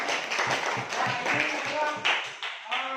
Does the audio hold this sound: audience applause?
yes